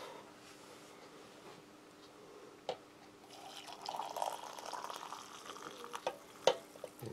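Water is poured into a split cold-weather MRE beef stew ration bag, a faint trickling and gurgle that grows busier partway through, with soft crinkles and a few sharp plastic clicks.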